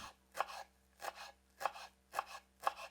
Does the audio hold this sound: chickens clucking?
no